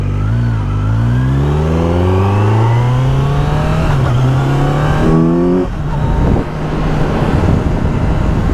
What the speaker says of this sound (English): Flipping through those gears is just so nice.